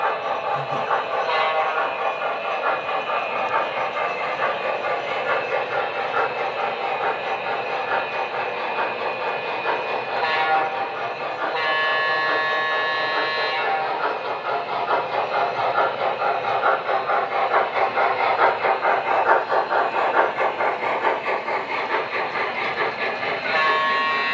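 A Lionel model toy train runs along its track with a steady electric motor whine and rolling clatter, a continuous close mechanical drone with brief brighter squeals, from a large toy train collection.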